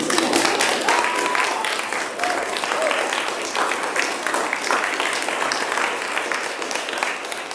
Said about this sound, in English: We applaud again, you guys.